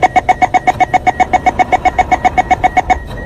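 SBS Transit North East Line train door-closing warning: a rapid, steady series of about twenty identical loud electronic beeps, evenly spaced, sounding alone with no talk.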